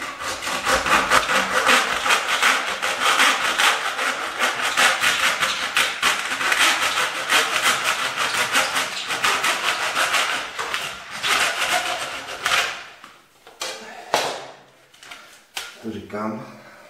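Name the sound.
cutting a floor skirting board with a handsaw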